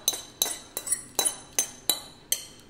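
Sautéed sausage mixed into lemon bow tie pasta with vinaigrette, heard as a series of seven sharp metallic clinks of a utensil against a bowl at a regular pace, close and clear.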